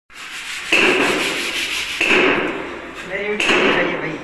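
A worker drills or cuts a hole for a chimney exhaust pipe, giving three rough grinding, rasping bursts with short breaks between them.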